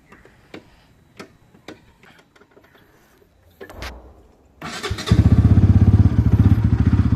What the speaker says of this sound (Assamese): মোৰ বাইকখন ফুল ষ্টাৰ্টটো দিওঁ